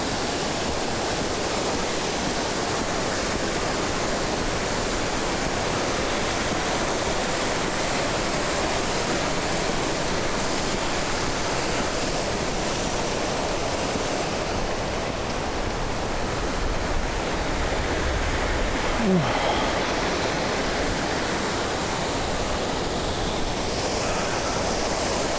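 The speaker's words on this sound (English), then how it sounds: "This thing is a kind of a dam. And There's plenty of water coming over" Plenty of water, with some ice, pours over a small dam in a steady, dense roar that continues unbroken throughout, fairly close with no voices.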